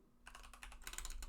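Close-up typing on a computer keyboard while writing code tests, a brief pause followed by a rapid, even run of soft key clicks, with no one speaking.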